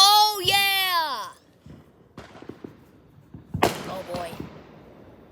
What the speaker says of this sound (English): what do you think of these fireworks?